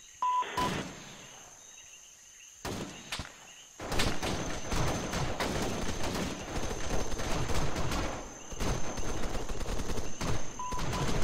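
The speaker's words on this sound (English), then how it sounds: "Be advised, friendly firing." Gunfire in the military video game Arma 3: a few isolated shots, then dense, sustained bursts of rapid automatic fire and scattered reports, loud and continuous through most of the stretch.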